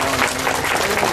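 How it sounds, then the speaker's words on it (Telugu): Audience applause at an honouring ceremony, a steady dense clapping from a crowd filling the short moment without a break. "ఎవరికి ఏది చెప్పినా మీరు చప్పట్లు కొడుతూ ఉండడం అంతే."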